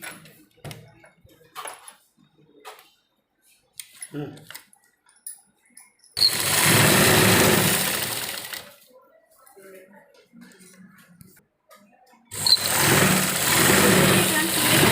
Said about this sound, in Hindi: फिर इसको भी हमने इसी तरह से फोल्ड करते हुए सिलाई लगानी है।